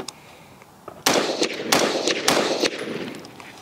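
A PSA Sabre 10 rifle in .308 fires four sharp, loud shots about half a second apart, each crack ringing out briefly outdoors before the next.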